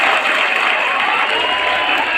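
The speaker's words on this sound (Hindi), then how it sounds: "आप सभी के लिए एक बार जोरदार तालियां होनी चाहिए" Students and teachers at an inter college assembly break into steady applause, a continuous dense patter of many hands clapping at once, fairly loud and close throughout.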